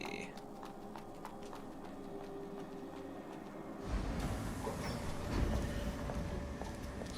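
Tram ride in the video game AI Limit, a low steady rumble and rattle that swells louder partway through as the car moves, with faint rhythmic clicks over it.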